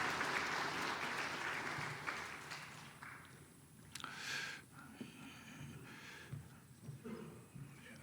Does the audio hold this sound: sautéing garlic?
no